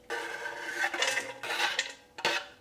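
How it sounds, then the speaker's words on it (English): A knife chops through a bunch of whole spinach leaves on a board, producing a few short bursts of crisp scraping and cutting sounds, moderately quiet and close, with pauses between strokes. "So here is all the chopped up spinach."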